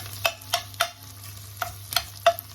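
Ackee and saltfish are stir-fried with spicy peppers in a pan over a low hum, with about six sharp spatula scrapes and clacks at an uneven rhythm above a quiet sizzle, close up with no voices.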